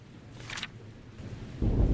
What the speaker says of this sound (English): the storm grew even bigger and bigger